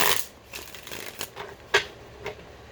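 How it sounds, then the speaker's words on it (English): Tarot cards shuffled in several quick riffling bursts with short pauses between them, close and fairly soft, no voices. "I'm just going to shuffle through a few times here."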